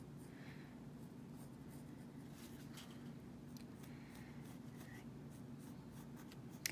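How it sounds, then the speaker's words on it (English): Pencil scratching steadily on paper while branches are drawn for a bird's nest picture, a soft continuous scribbling texture with short strokes, faint and close, with no voices. "So we're going to draw in some branches."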